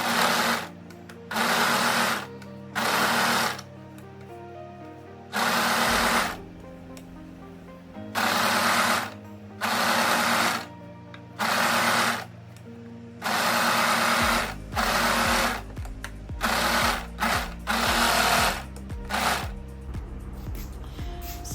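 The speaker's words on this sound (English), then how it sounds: "And then go ahead and overlock all the way around also." An overlocker serges around the edges of a summer dress with gathered waist and puff sleeves, running in repeated short, loud motor bursts separated by brief pauses, alone without talk.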